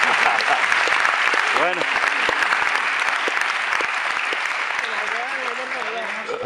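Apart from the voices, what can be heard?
auditorium audience applauding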